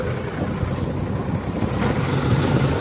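A tractor engine that has brought a spray tanker runs at a steady low rumble with no break, fairly close and constant, and nobody speaks over it.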